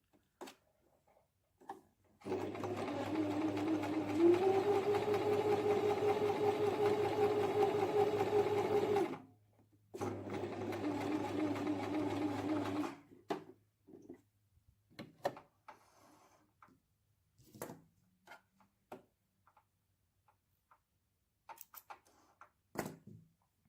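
A sewing machine stitches fabric for a bag organizer in two close, steady runs of rapid mechanical whirring, with a short pause between them, followed by quiet clicks and handling noises.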